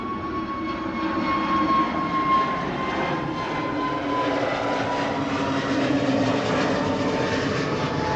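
Air Force One turns on the ground at Schiphol airport, a steady roar of jet engines heard from a distance that holds through the whole stretch with no talk.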